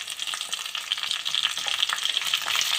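Onion masala with spices frying in a pan for chicken kali mirch, a bright steady sizzle with crackling and stirring, close and continuous with no talking.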